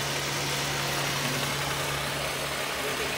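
A 1986 Suzuki FX car engine idles steadily, a constant low hum with a faint mechanical drone, close by and unchanging throughout, with no voices.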